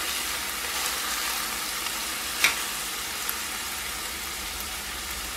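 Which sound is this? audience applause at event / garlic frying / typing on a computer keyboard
garlic frying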